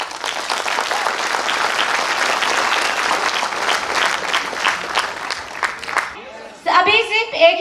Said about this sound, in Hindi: अपनी कंपनी के लिए एक बार जोरदार तालियां दोस्तों।